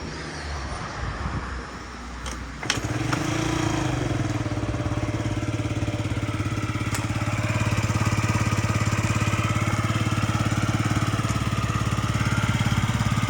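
A Yamaha Jog SA36 fuel-injected scooter engine starts and settles into a steady, even idle, running loud and close for several seconds without talk.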